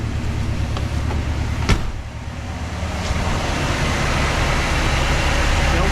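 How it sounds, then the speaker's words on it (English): A 1956 Packard engine, fresh out of 45 years of storage, idles with a steady low rumble close by, a sharp click near the start, then holds an even hum. "Turn it on right here, and she's running."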